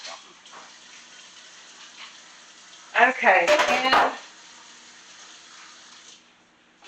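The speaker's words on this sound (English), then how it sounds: "I put a splash of water in my pasta jar." Water splashes and clinks inside a glass pasta sauce jar, a short busy burst of pouring and rattling in a home kitchen, with brief talk before it.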